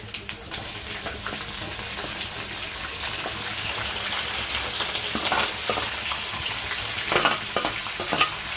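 Peanuts, onions and green chillies fry in a pan, making a constant close sizzle and crackle with soft stirring scrapes and brief spattering bursts toward the end.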